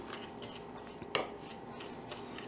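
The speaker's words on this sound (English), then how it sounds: "Now that I've mixed this up, made it into a paste" A utensil stirs a vanilla sugar body scrub into a paste in a bowl, giving soft, quiet gritty scraping and light clinks, with one sharper knock near the middle.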